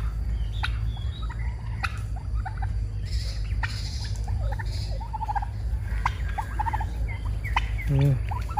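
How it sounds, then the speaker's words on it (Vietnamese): A flock of pheasants kept at a rural Mekong Delta home in Mang Thit, giving repeated gobble-like calls and clucks over steady outdoor background noise, with no talk. "Đây nhà ông Út mình có một bầy gà lôi luôn"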